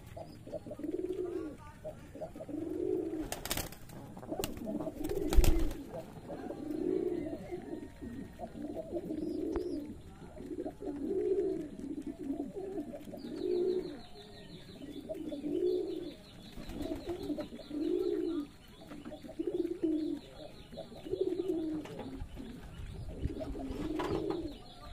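Racing pigeons on a farm in Shibganj, Chapainawabganj, cooing close by in a rhythmic series of soft, repeated coos roughly every two seconds, with scattered clicks and faint chirps around them.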